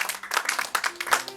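A short burst of clapping from an evening concert audience after a singer's performance, steady and lively, fairly close.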